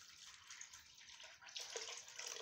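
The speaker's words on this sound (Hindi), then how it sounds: "पानी जो है मैं इसके अंदर डाल रही हूँ" Water poured into spiced lentils while cooking mutton kebab mixture, a short close hissing splash that grows louder toward the end, with no talking.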